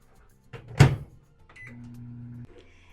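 A microwave oven in a home kitchen heats whipping cream: a door clunk, a loud beep, then a short steady low hum as it runs before stopping, with no voices.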